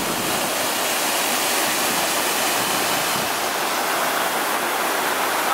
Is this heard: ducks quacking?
no